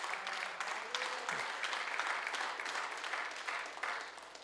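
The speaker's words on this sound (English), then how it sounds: "You guys are eager to clap" Church congregation clapping steadily at a Sunday service, a dense even patter of many hands sustained throughout at moderate level, with faint voices mixed underneath.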